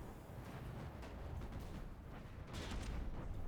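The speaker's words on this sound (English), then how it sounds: "Oh, another cram cannon shot." Cram cannon fire from a warship in From The Depths, heavy dull booms and rumbling blasts blended into a continuous low roar, with a louder burst near the end.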